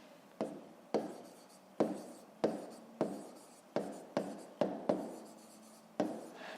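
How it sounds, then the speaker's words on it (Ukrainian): Pen strokes on paper while a math solution is written down, in about ten sharp taps and scratches at an irregular pace, close and fairly quiet with no talking. "І записуємо це, у нас буде швидкість"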